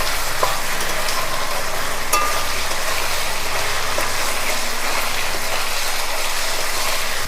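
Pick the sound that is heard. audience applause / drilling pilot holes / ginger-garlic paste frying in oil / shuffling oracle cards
ginger-garlic paste frying in oil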